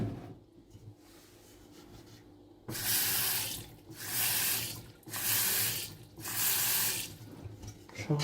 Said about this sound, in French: je vais vous montrer la dose que vous devez mettre d'eau